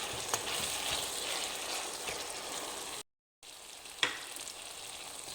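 Tomatoes sizzling and frying in a pan for a fenugreek-leaf sabzi, a steady close crackle with a brief stirring clatter near the end.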